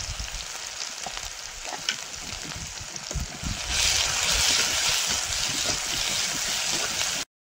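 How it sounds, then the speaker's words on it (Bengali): Chopped onion and crushed garlic fry with cumin in oil, making a steady hiss that gets louder and fuller partway through before cutting off abruptly, with no talking over it. "পেঁয়াজ রসুনটা ভাজা হয়ে গেছে"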